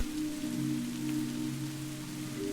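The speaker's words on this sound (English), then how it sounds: "The sounds of the rain carrying you into a world of dreams" Steady rain falls over an olive grove, a soft, even hiss of drops continuing throughout with a faint low hum beneath and no voices.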